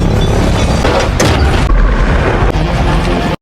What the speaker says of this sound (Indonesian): berhasil meledakkan satu kendaraan